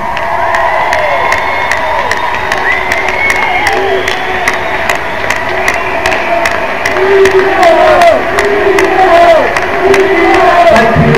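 A concert crowd at a 1997 live show cheers and shouts loudly and continuously, with whoops and claps rising toward the end, no distinct talking.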